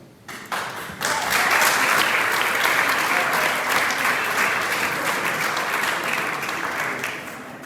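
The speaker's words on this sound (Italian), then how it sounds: "grazie anche per l'applauso" Congress hall audience in Sardinia bursts into applause after a moment of near quiet, the clapping swelling quickly into a loud, sustained roar that holds steady and tapers slightly toward the end.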